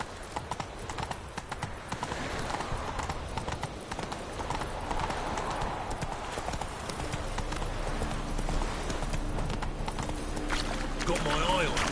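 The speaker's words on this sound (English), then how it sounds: "Whoa there, Roach." Horse hooves clip-clop at a steady walking rhythm in The Witcher 3: Wild Hunt on PS4, with game ambience and character voices speaking over the hoofbeats.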